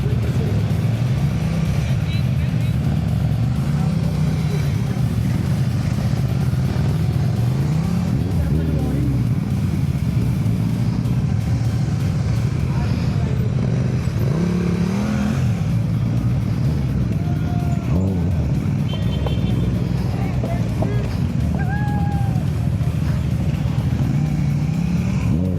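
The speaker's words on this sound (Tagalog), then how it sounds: "Iba-iba yung gamit naming motor." Motorcycle engines idle and rev nearby in a low, continuous drone, with a few rising throttle sweeps while people talk over them throughout.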